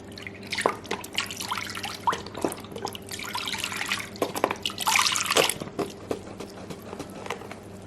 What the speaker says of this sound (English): Go ahead and shake this up really well, any of your broths, and add it to your crock pot.